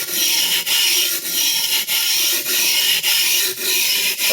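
A vintage Clyde Cutlery chef knife being rebeveled on a sharpener makes continuous loud, close abrasive grinding, broken by brief regular dips as each stroke turns, a harsh hiss with no talk.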